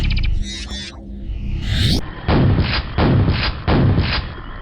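A shotgun in a first-person shooter fires in three heavy booming blasts at a steady pace, each a loud wide burst that decays quickly, after a brief stretch of other game sounds.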